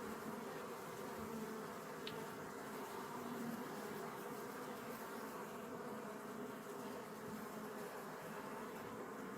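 Honeybees buzz in a steady, continuous drone during an open hive inspection of a colony with plenty of drone brood, the hum holding evenly throughout with no talking.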